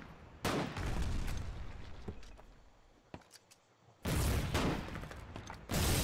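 Gunfire in a war video game comes in dense, loud bursts of rapid shots near the listener, with rolling booms and a brief quieter lull between volleys.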